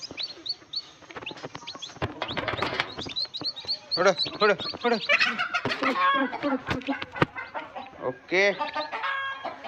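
Village hens with their chicks cluck and call close by, sharp clucks and peeps in a busy jumble, while a person talks briefly over them.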